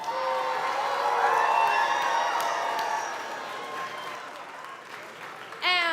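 A large crowd cheers and applauds at a FIRST Tech Challenge robotics competition, New England Premier Event. The roar is loud and sustained and eases slightly midway, with a sharp whistle or whoop breaking out at the end.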